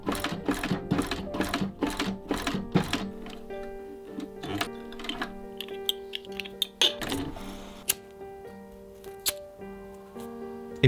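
A sewing machine slowly stitches a small eraser pocket on a pen case. A run of evenly spaced, close mechanical thumps is followed by sparse clicks and ticks over a faint steady hum.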